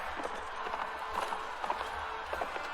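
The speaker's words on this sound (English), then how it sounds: "Ooh, a horse!" Horse hooves clip-clopping at a run in the video game Mount and Blade Warband, a quick uneven rhythm of soft thuds over faint game ambience, fairly quiet and without talk.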